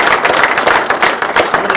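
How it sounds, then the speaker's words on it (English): Loud, close round of clapping from a conference audience for a panel of speakers, a brisk patter of overlapping hand claps filling the brief moment. "Let's give them one heck of a round of applause"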